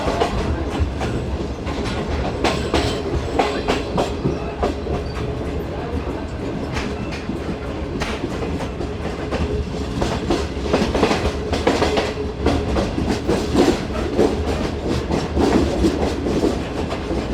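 The Shalimar Express, a passenger train on the Karachi to Lahore route in Pakistan, rolls in with a loud, continuous rumble and rhythmic clickety-clack of wheels over rail joints, heard close by for the whole stretch.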